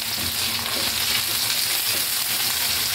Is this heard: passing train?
no